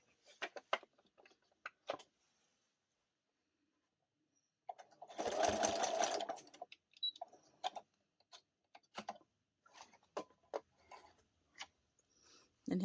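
A sewing machine stitches quilt binding in one steady burst of about two seconds mid-clip, with quiet fabric handling and small clicks before and after.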